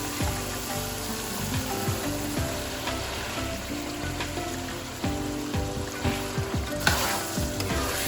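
Boiled chickpeas fry in a pan with a loud, crackling sizzle like rain, while a utensil scrapes and stirs them in repeated sweeps and knocks.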